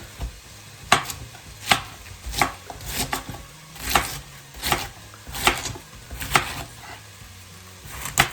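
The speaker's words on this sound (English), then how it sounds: "I'm just going to cut it into big pieces" A kitchen knife cuts a head of cabbage into big pieces on a board, with about a dozen crisp, evenly spaced chops. The chopping is loud and close, with no talking.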